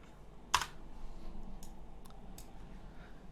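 Typing on a computer keyboard, with one sharp loud keystroke followed by a few fainter, scattered key clicks in a quiet room.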